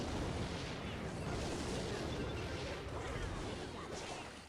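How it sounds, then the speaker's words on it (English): Rocket spell exploding in the video game Clash Royale, a loud, dense crashing boom that fills the moment and slowly fades, heard close and continuous. "And there he goes for the first rocket."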